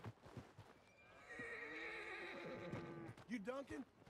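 A horse in the video game Red Dead Redemption 2 gives a loud, drawn-out whinny lasting a couple of seconds, with hoof clip-clop and brief game speech around it.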